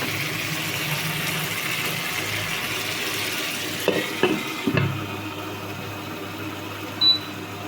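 Shing fish pieces with potato sizzling in a pan, a steady low frying hiss broken by a few sharp utensil knocks and scrapes near the middle.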